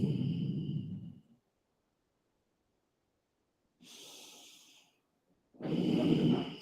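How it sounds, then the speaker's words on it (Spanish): Slow diaphragmatic breathing: a breathy inhale or exhale, then a long pause, then two more airy breaths, close and fairly soft with no talking. "Esto es una respiración diafragmática."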